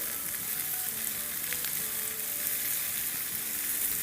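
Vegetables sautéing in a pan for a club sandwich filling, a steady close hiss and sizzle of frying with faint stirring clicks, no voices.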